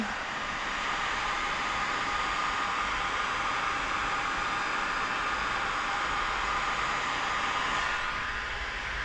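A heat gun blows hot air over paint protection film on a 2025 Kia K5 door, a constant close-up broadband hiss that stays loud and even throughout with no talking.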